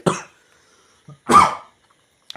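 A person coughs twice, close and fairly loud, with a short pause between the sharp bursts and a faint breath at the very end.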